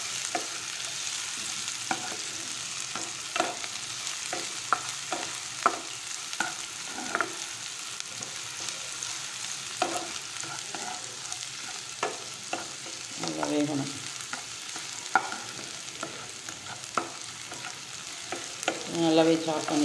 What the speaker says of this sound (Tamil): ஆனியன் போட்டிருக்கேன், ஆனியன் கொஞ்சம் நல்லா இதுவாக வதங்கணும்.